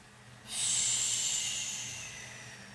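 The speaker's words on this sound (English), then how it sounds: "Take a few rounds of breath." A single deep, audible breath during a relaxing yoga session starts abruptly and fades slowly as a long, airy exhale. It is close and fairly soft, with no talking.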